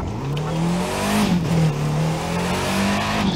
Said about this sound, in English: I'm driving the lifted monster truck smart car.